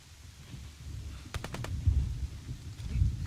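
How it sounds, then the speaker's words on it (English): A short burst of three or four rapid gunshots in the game Rust, sharp and fairly thin, over a rumbling low background. "Listen how bad that gunfire sounds"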